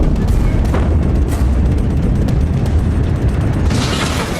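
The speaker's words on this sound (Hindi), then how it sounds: "ऐसा धमाका जिससे धरती हिली, आसमान जल गया, समंदर का पानी खौल उठा।" A huge explosion caught on camera comes through as a loud, sustained, rumbling roar that stays heavy and unbroken across the whole stretch, with no voices.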